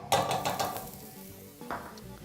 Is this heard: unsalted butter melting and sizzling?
yes